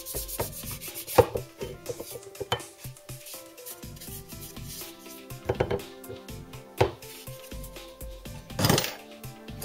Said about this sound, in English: Quickly clean the bush a little bit.